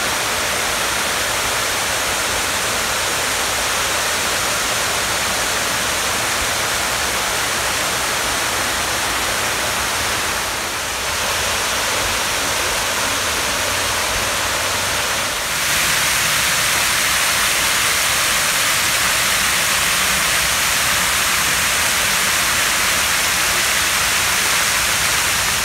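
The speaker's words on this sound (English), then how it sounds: "these gardens back here have such exquisite, dazzling fountains all around" Fountains at Longwood Gardens splash and rush in a loud, steady wash of falling water that fills the whole span, shifting slightly in tone partway through, with no voices.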